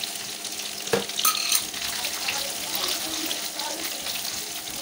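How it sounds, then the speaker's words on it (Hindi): One tablespoon of cumin seeds frying in hot oil in a pan, a steady close sizzle with a brief clatter near the start, continuing evenly without talk. "थोड़ा सा 1 टेबल स्पून जो है ज़ीरा मैंने इसमें डाला है, इसको हल्का सा ब्राउन करेंगे हम।"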